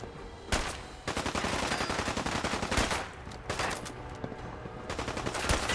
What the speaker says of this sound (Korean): 어디선가 쏘고 있는데 그 어딘가가 어딘지를 모르겠다.